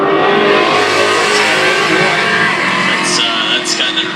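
A Holden Monaro drag racing car makes its run at a drag meet, a loud, sustained engine roar that holds through the clip as an announcer commentates over it.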